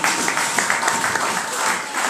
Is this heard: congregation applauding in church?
yes